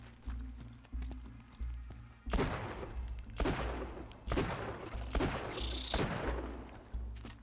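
Repeated loud gunshots from Borderlands 2, a sharp report roughly every second, each with a brief ringing tail over low game ambience.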